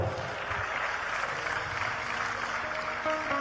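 Audience applause at a Gujarati folk storytelling gathering, a dense continuous clapping that stays loud and even throughout.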